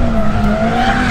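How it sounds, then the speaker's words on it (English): Tires of a Mercedes A45S squeal and skid continuously as the car power-slides through a corner in drift mode, loud and close with engine drone underneath. "I'm talking about genuine power slides under power."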